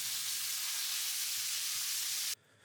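Steak searing in a pan right after being flipped, a steady loud sizzle that runs unbroken for a couple of seconds before cutting abruptly to a quiet hiss.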